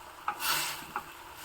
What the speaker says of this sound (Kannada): ಮತ್ತೊಮ್ಮೆ ಚೆನ್ನಾಗಿ ಮಿಕ್ಸ್ ಮಾಡ್ಕೊಳ್ಳೋಣ.